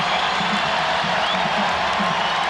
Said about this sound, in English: The crowd urging the Rockets out.